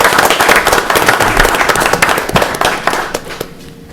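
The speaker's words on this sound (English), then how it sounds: "But let's just give them a big round of applause." Applause from a school board meeting audience in Elizabethton, with dense clapping that stays steady for most of the stretch and tapers off near the end, without any talk over it.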